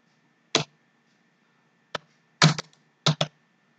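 A roll number being typed on a computer keyboard: five short, crisp key clicks in quick uneven bursts separated by brief pauses, close and clear against a quiet room with no talk.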